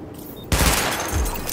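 Rapid bursts of automatic gunfire at highlighted targets during a weapon test in Tom Clancy's The Division, loud and close, breaking in suddenly after a quiet moment and continuing in dense volleys.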